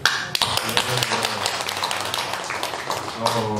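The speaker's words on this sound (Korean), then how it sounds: "와, 박수." Audience applause at a Buddhist dharma assembly at Boeunsa temple in Gwangju: steady, dense clapping throughout, with sharper claps near the start and end and a voice underneath.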